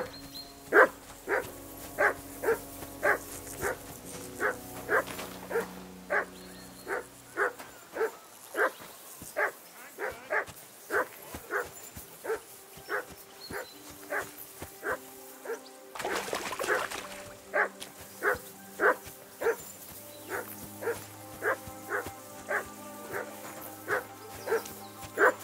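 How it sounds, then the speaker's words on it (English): A dog barks in a long rapid series in the medieval game Kingdom Come Deliverance II, sharp regular woofs continuing for the whole stretch with brief pauses, moderately close, while background sounds and occasional voices shift behind. "Whistle at that mutt of yours to stop barking."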